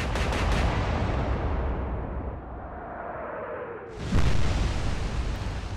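Battleship main-gun salvo in the naval game Atlantic Fleet: a loud booming blast rumbles and fades, a descending shell whistle follows, then a second heavy impact boom lands near the end, with no talking.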